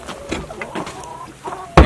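Hens cluck softly and intermittently in nest boxes inside a homestead chicken coop, with one sharper, louder squawk right at the end.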